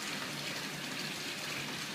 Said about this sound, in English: That valve that you're seeing at the bottom right corner is now open and pumping water into the system.